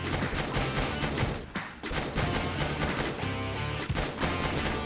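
Heavy gunfire in a video game shootout near a dam, with continuous rapid bursts of automatic fire and shots overlapping, loud and close, broken by a couple of brief pauses and no talk.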